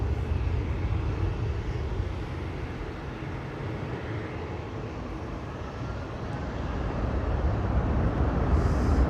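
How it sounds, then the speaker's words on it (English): Emirates airliner departing Amsterdam Schiphol, a steady, moderately distant jet rumble and roar holding for several seconds and swelling slightly toward the end, no talk. "Here's the Emirates coming this way."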